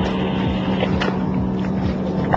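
Racing RIB boats in a Makrygialos race throw out a steady, loud outboard drone as they pass, with wind and water noise and a commentator's voice over the top.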